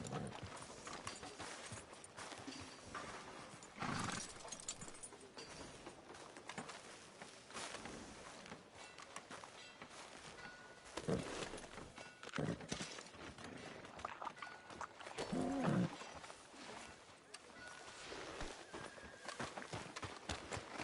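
Steady clip-clop of horse hooves in a video game over a busy background of music and ambient noise, with occasional louder accents.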